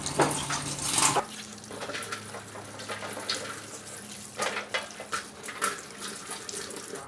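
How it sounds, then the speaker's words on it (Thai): Long chili peppers are rinsed under a running kitchen tap, with water splashing loudly at first and then flowing steadily while the peppers are handled, bringing intermittent bursts of spatter. "ล้างทำความสะอาด"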